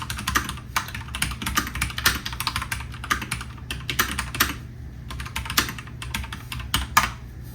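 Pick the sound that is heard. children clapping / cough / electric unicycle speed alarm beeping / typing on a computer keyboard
typing on a computer keyboard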